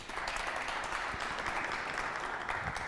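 An audience at a high school trophy ceremony applauds as the representative of Lycée Collège Charles Lwanga is called up, a thick, even roar of clapping sustained throughout.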